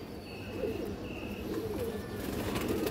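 A large female racing pigeon coos in soft, low, rolling phrases nearby, steady and unhurried, with faint background noise and no talk over it.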